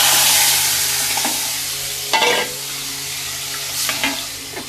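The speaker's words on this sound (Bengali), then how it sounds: "এর মধ্যে যে চিংড়ি মাছগুলো, এগুলো আমি দিয়ে দেবো" Shrimp sizzling in hot oil already seasoned with cumin, dried red chili and bay leaf, a steady loud fry with a few sharp stirring scrapes and crackles, no talking.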